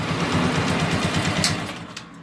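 A small carbureted motorcycle engine, in the TMX155 or Euro150 class, idles steadily and evenly nearby after carburetor tuning, a smooth, rapid putter without misfires.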